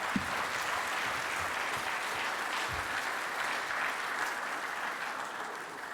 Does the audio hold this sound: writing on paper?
no